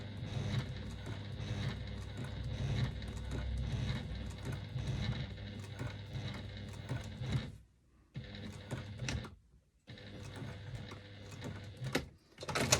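A sewing machine runs in steady rapid bursts back-stitching a strap connector, the needle's fast mechanical chatter close and clear, pausing briefly twice near the end before resuming, with no voices.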